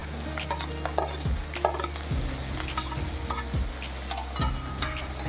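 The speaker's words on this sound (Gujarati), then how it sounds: "ડુંગળીને આપણે ધીમે તાપે થોડીક સાંતળવા દઈએ" Chopped onions sauté in a pan over low heat for masala dosa filling, giving a steady soft sizzle with spatula stirs and scrapes recurring every second or so.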